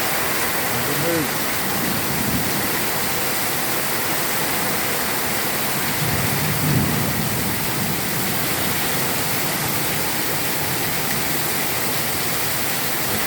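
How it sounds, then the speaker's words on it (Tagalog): Heavy rain pours in a steady, dense roar throughout, loud and unbroken, with a voice faintly audible beneath it. "Kasama pang kulog at kidlat."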